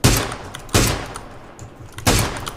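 Three loud, close bursts of rapid gunfire from a battle royale shooter game arrive about a second apart, each a dense rattling volley that fades into a low rumble.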